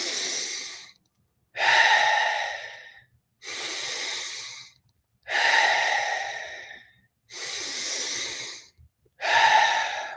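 Deep Wim Hof method breathwork: six long, loud, forceful breaths in a steady rhythm, each a rushing inhale-exhale separated by short pauses, heard close and alone.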